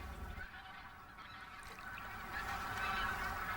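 A large flock of migratory waterbirds honks continuously at a distance over a flooded winter rice field, the overlapping calls building into a dense chorus.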